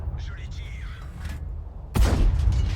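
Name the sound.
tank gun shots in the video game World of Tanks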